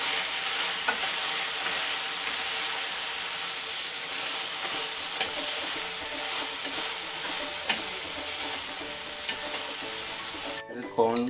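Tuna chilli being stirred in a hot frying pan, a continuous sizzle and hiss with frequent light scraping and clicking of the utensil against the pan, close and fairly loud, with no voices.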